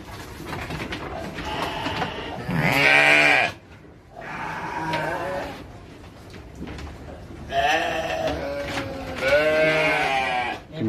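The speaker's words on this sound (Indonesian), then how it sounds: "Ini domba Garut semua." Garut sheep in a farm pen in Bogor bleat loudly and close by, several drawn-out overlapping calls spread across the stretch, with quieter pen noise between them.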